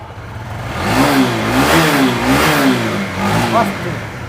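A 2018 Yamaha R15 V3 sports motorcycle in fresh condition, its engine revved up from idle in a few close, loud, wavering surges before dropping back.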